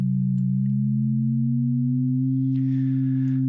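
Two steady sine tones sound together, clean and continuous and of even loudness, a faint hiss joining in near the end.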